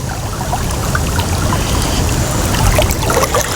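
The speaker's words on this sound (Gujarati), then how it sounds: "આ સીધે સીધું પાણી આવે કેનાલનું પાણી" Loud canal water rushes and pours steadily nearby, a dense churning roar with small splashes throughout.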